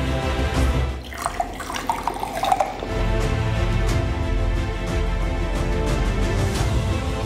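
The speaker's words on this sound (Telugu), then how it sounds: "కొద్దిగా నీళ్లు పోద్దాం దీంట్లో." Water poured from a freshly unsealed bottle of Cell Health Aqua drinking water into a small container for a TDS test, a steady close splashing fill lasting several seconds with no talk.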